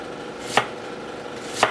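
A knife chops onion on a cutting board in a home kitchen, giving two crisp, isolated thuds about a second apart over a steady background hiss.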